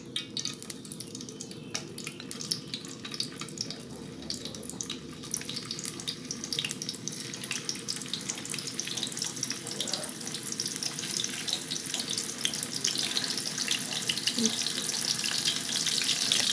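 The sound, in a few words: tofu skin frying in oil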